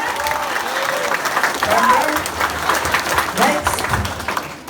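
An audience applauds in a burst of clapping under a voice speaking over it, the clapping steady and fairly close throughout.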